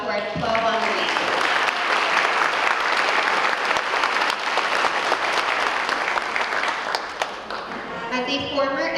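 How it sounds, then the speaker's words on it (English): An audience at the School Bell Awards gives a hearty round of applause for the twelve honorees, rising to dense, sustained clapping. A voice speaks at the start, and another can be heard as the clapping fades near the end. "A big round of applause to our 12 honorees."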